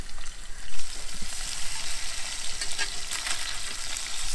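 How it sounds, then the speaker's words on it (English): Halloumi cheese sizzles and fries on a camping grill by a beach, a steady close crackling hiss with a few louder pops, heard alone with no talk. "we are going to grill halloumi also"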